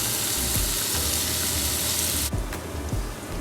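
Bacon sizzles steadily and loudly in a frying pan with a dense, continuous crackle, then drops abruptly to a quieter sizzle near the end.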